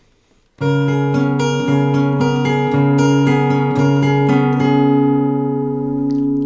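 Fingerpicked acoustic guitar plays a steady phrase of a song, plucked notes over a sustained bass, close and clear, letting the final chord ring.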